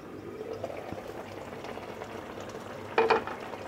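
Katla fish curry for dopiaza simmering in a covered pan, a faint steady bubbling hiss, ending with a short clatter as the lid is lifted.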